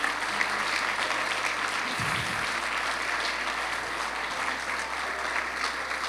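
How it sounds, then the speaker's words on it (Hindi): A large church congregation claps steadily and loudly during a sermon, a continuous dense applause with a faint low hum beneath, no voices standing out. "जोरदार तालियां ऐसे खुदा के लिए"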